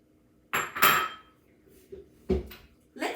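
Clinks and scrapes of utensils against a mixing bowl as eggs are worked into cheesecake batter one at a time, a few irregular knocks with short pauses between.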